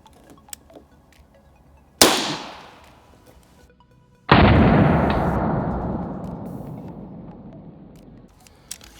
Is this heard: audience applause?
no